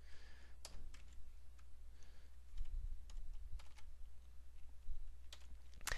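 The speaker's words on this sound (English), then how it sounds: "just type it, don't copy paste." Steady clatter of typing on a computer keyboard, close and fairly quiet, with irregular bursts of keystrokes and a few sharper key clicks over a low background hum.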